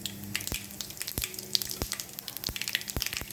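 Mustard seeds crackle and pop in hot oil, sharp sporadic bursts over a steady low sizzle, close by with no talking.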